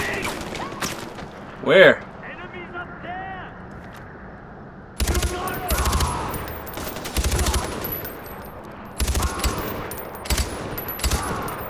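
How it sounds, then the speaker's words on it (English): Gunfire in the Far Cry 4 video game, with repeated bursts of automatic fire from about five seconds on and a brief short remark from a voice earlier, the shots loud and clustered. "Don't stop firing."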